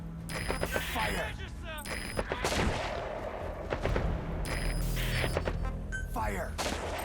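Video-game gunfire from Metal Gear Solid V breaks out after a shouted fire order: dense overlapping shots and bursts crackle for several seconds, loud and close, with voices mixed among the volleys.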